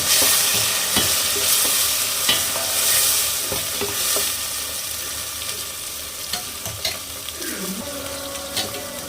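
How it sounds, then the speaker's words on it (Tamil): Ground tomato paste stirred and frying in hot oil in a pan for prawn biryani, a steady close sizzle with scraping strokes throughout and a brief tap-water rush near the end. "நம்ம அரைச்சி வச்சுருந்த தக்காளியை இதோட சேர்த்து வதக்க வேண்டியதான்"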